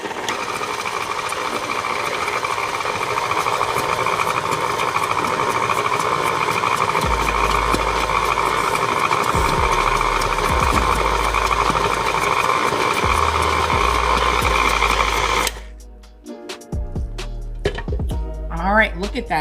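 Electric mixer whirring steadily through chocolate keto cookie batter, a loud continuous motor hum that cuts off abruptly near the end, followed by a few quieter clinks and handling sounds.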